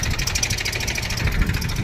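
Two tractors, a Massey Ferguson 241 of 42 hp and a Mahindra of 39 hp, strain together to pull a stuck tractor free with a rope. Their engines give a loud, steady, rumbling drone throughout, with no talking.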